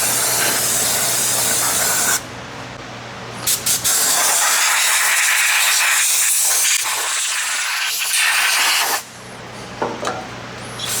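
Aerosol brake cleaner blasts from a can onto the drum brakes of a 1978 Ford LTD wagon, a loud continuous hissing spray in long bursts with brief pauses between them.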